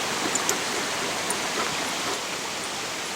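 A forest creek flows with a soft, even hiss of running water, faint and steady with small splashes, no voices.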